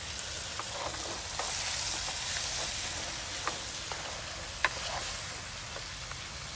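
Tomatoes sizzle and fry steadily in a hot pan, a dense continuous crackle with scattered sharper pops and spatters throughout, with no talking.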